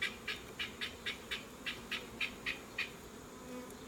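Three-banded Italian honeybees buzz faintly at a hive in a series of about ten short, evenly spaced pulses over quiet background hiss.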